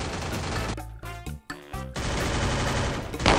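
Rapid automatic gunfire in the mobile shooter Free Fire, dense bursts of loud shots with a short gap of sparse single cracks before the firing resumes steadily, no talk.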